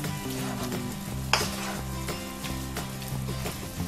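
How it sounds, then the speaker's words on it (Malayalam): Chicken with yogurt sizzles in a pan for Kerala-style chicken varattiyathu, a constant close frying hiss with stirring scrapes and one sharp clink, over soft background music. "നന്നായിട്ടൊന്ന് ഇളക്കി യോജിപ്പിക്കുക തൈരും കൂടെ"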